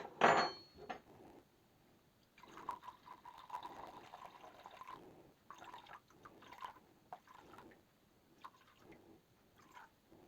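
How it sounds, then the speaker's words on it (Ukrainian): Water trickles and pours into a bowl of pea paste amid soft clinks and stirring, quiet and close, with no talking. "В нашу пасту додаємо 225 грам води."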